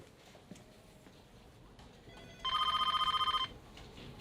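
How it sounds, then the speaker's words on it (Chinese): An electronic telephone bell rings in a rapid trill for about a second in a quiet office, clear and fairly close against low background noise. "电话在响。"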